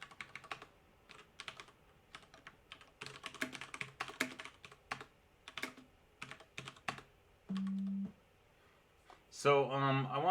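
Someone types code on a computer keyboard, with bursts of quick, close key clicks separated by pauses, a brief hum, and a voice talking at the end.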